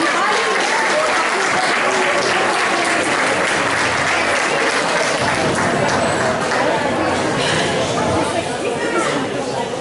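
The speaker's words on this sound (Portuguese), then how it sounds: "Uma salva de palmas para ele." A carnival comedy show audience breaks into sustained, loud applause, dense clapping mixed with crowd chatter that carries on for the whole stretch.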